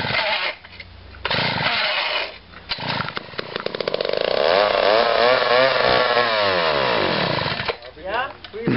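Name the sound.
1970s McCulloch chainsaw running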